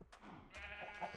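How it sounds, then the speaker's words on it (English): A Minecraft sheep bleats twice in short, nasal cries, close and clear against near silence. "Okay, let's feed the sheepies first."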